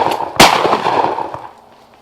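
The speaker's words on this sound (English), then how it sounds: "So I'm going to go ahead and draw down, send a couple rounds in the pond." A single shotgun round fired into a frozen pond outdoors in the cold goes off as one loud, sharp blast that rings out and fades over about a second, with no voices.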